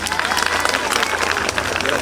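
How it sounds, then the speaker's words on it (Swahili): Applause and clapping from a crowd at an outdoor NG-CDF project launch event in Kiharu, Murang'a, Kenya, a dense steady patter of many hands lasting throughout, with voices murmuring underneath. "Pige makofi."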